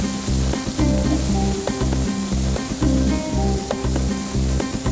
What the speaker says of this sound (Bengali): ভেজিটেবলটা একটু সতে করে নেব।